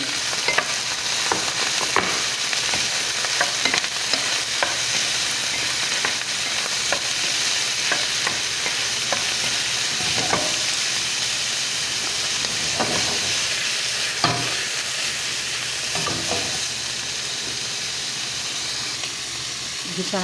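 Peppers sautéing in a pan for callos, a steady close sizzle and hiss of frying with scattered stirring clicks and scrapes throughout.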